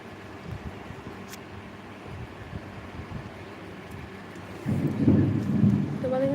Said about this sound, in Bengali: আমাদের এখানে বৃষ্টি পড়ছে